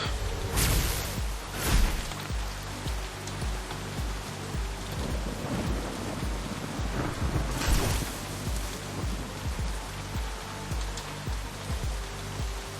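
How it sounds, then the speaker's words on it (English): Steady heavy rain with deep rolling thunder in the Shadowrun Hong Kong video game, a dense continuous downpour broken by a few louder rumbles and cracks, with no voices. "Damn rain."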